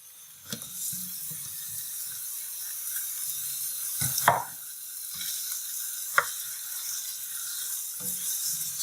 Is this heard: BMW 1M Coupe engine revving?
no